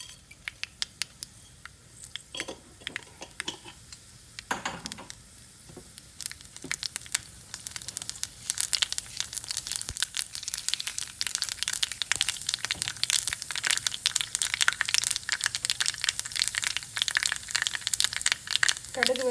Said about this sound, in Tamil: கடுகு போடுறேன், ஒரு டீஸ்பூன் கடுகு.